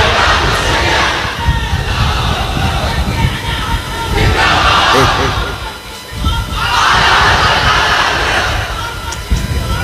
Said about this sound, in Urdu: بیٹا نعرے کم لگاؤ